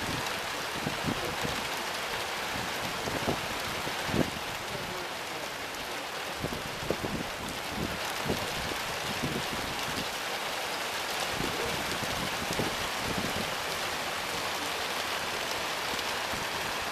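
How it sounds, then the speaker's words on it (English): Steady heavy rain pours during a severe thunderstorm in Ohio, a dense continuous hiss of drops on surfaces with scattered louder splashes, constant and close throughout with no voices. "Well, here's the rain."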